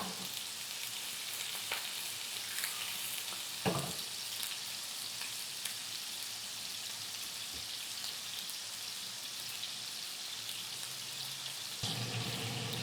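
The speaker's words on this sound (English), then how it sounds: "Now that the onions are getting a little bit caramelized, we'll flip them" Onions frying and caramelizing in a hot pan give off a steady, dense sizzle throughout, with a few small pops and spatters along the way.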